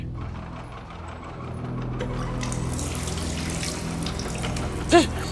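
Water running from a tap into a sink in the video game Stasis, a soft steady hiss and splash that grows slightly fuller, with a brief louder click near the end.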